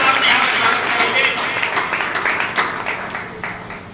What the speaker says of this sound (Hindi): जोरदार तालियों से आप नेहा का स्वागत करेंगे।